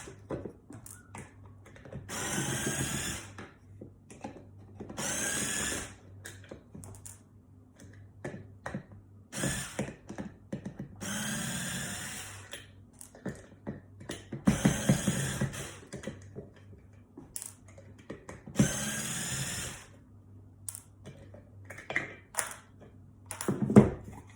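Hardware being taken off a wooden box with a hand tool, heard as scattered clicks, scrapes and short bursts of metallic clatter and rattling, close and fairly quiet, with pauses between.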